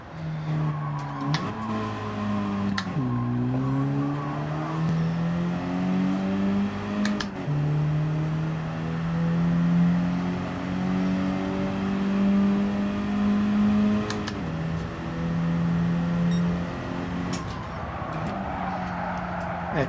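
Racing car engine in Gran Turismo 7 accelerating and revving steadily, its pitch climbing through repeated gear changes at a constant loud level, with faint tire squeal and no talk.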